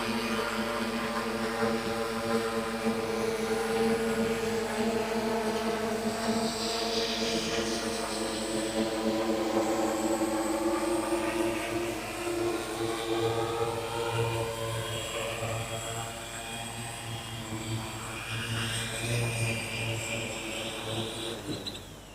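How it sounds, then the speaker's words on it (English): A VTT drone carrying about 6.5 kg of RF payload flies a test flight, its motors making a loud, continuous tonal whine and drone with pitch sweeps as it manoeuvres, held for over twenty seconds without talk. "So this was, as you could see, the test flight of this drone."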